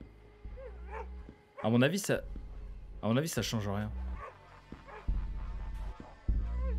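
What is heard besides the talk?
dog barking in the horror video game Canine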